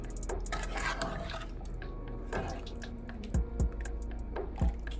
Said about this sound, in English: So now I have my spoon, and you're literally just going to stir.